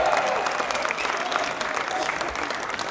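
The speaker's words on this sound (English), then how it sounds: "You're cheering your award winners, your friends and neighbors in this great city of Carpinteria" Audience at a community awards banquet applauding and cheering award winners, a dense, steady wash of clapping with scattered shouts throughout, loud and close.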